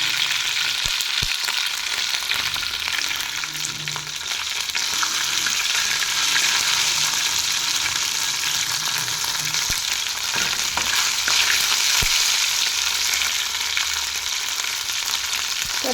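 Tempering spices fry in a pan for a capsicum and coconut dish, giving a continuous loud sizzle and crackle with occasional stirring clicks and no talking.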